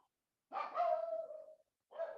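A dog barks in a played recording, two quiet, fairly short bark-like calls separated by a pause, with no voices over them.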